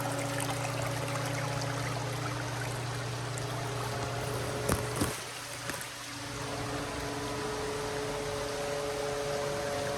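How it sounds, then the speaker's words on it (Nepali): A garden fountain in a bonsai park runs with a steady rushing, pouring flow, breaks off briefly around the middle with a few knocks, then comes back to an even wash of water. "साथै यो पानी चाहिँ यो बन्द हुँदै फेरि आउँदै गर्दैछ"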